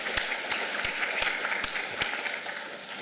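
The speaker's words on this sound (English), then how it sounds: "Let's give one more round of applause to all of the students who presented tonight." Applause for students after a poetry reading, an audience clapping steadily in a room, a dense patter of hands with some louder claps standing out.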